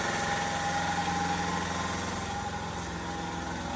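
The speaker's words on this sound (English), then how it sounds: "Quieter than my other compressor." A McGraw 29-gallon 165 PSI oil-lube belt-drive shop air compressor runs steadily, a continuous close mechanical drone with a faint whine and even vibration, no talking.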